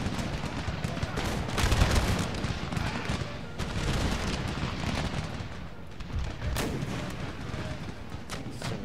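Musket volleys and booming cannon fire roll continuously across an Empire: Total War battlefield, heavy low thuds mixed with crackling small-arms bursts, loud and dense throughout.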